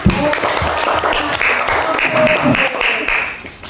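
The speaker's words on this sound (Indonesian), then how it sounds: "Tepuk tangan, nak." A school class gives a dense, steady round of applause in the classroom, with faint voices mixed in throughout.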